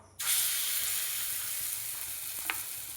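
Moong dal fritter batter dropped by the spoonful into hot mustard oil in a kadai: after a brief quiet moment a loud, steady sizzle bursts in and carries on throughout, with one small clink near the end.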